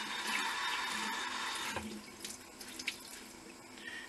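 Water runs steadily from a tap into a sink during face washing, a constant splashing hiss that shifts a little midway as hands move through the stream.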